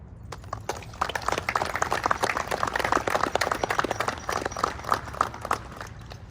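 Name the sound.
round of applause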